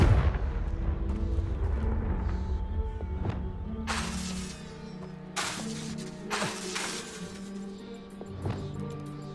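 A Confringo fire-blast spell in Hogwarts Legacy goes off in several sharp, booming blasts. Each crackling burst rises over a low, rumbling game backdrop.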